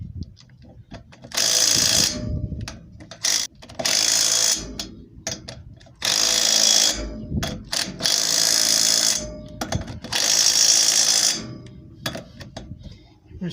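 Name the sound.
torque wrench tightening trailer wheel lug nuts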